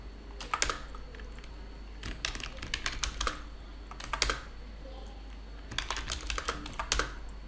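Several bursts of quick computer keyboard typing, close and fairly quiet, separated by short pauses, as wrong passwords are entered repeatedly into an Oracle database login.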